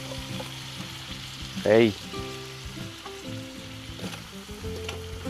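Pig head adobo cooked with vinegar sizzling and frying in a pan while being stirred, a steady close crackle with a brief loud scrape of the spoon, under a few short spoken words.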